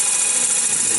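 A lathe parting tool cutting a relief along the back edge of a threaded duck call, a steady close whirring hiss of spindle and cutter lasting about a second.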